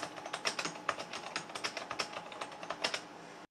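Fast, fairly hard typing on a keyboard with Cherry MX Silent Black 60cN switches, producing a steady flurry of soft, muted clicks up close with no talking.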